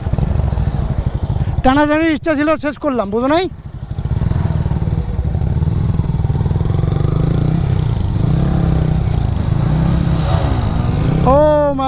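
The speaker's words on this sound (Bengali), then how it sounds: "আমাদেরকে এখন উইলি দিয়ে দেখাবে লালমনিরহাট বাইকার।" A motorcycle engine rumbles steadily as a Lalmonirhat biker pulls a wheelie, with sharp rising and falling revs about two to three seconds in, all under near, continuous talking.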